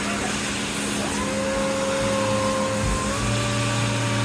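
Stolbek sanding machine working door edges, a loud steady industrial whine and drone with a thin tonal hum that rises slightly, continuous with no talk.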